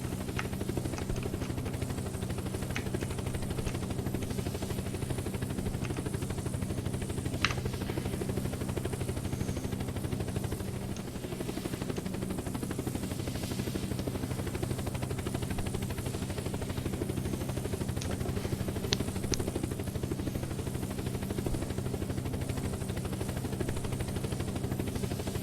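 An airplane engine in the video game Unturned drones continuously, a steady loud hum with a low rumble and a few faint clicks over it, with no talking.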